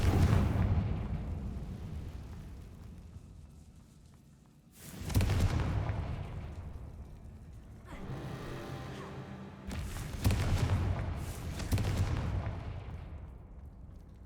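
Confringo blasting spell explosions in a wizard video game: several deep, booming blasts with rumbling tails, spaced a few seconds apart, loud and close over a low ambient background.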